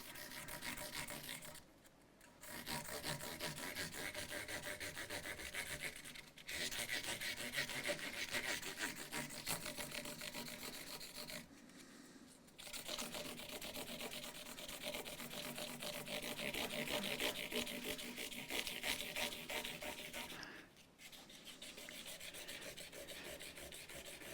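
Fine 1000 grit sandpaper rubs back and forth over the bridge area of an Epiphone ES339 guitar in steady raspy strokes, close up, broken by a few short pauses.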